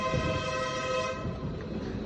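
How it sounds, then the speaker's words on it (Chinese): A Jerusalem light rail tram sounds its horn on a street shared with pedestrians near Jaffa station, a sustained steady multi-tone blast for about a second that fades into the rumble of the moving tram. "我在按喇叭，因为可能有路人不知道车子要来了。"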